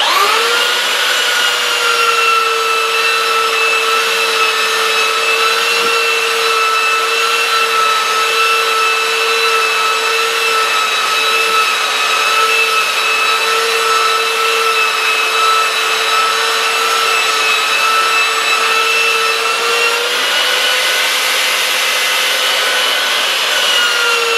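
A small belt sander runs steadily against wood, a continuous high whine with a rough grinding hiss, loud and close, slightly shifting in pitch near the end.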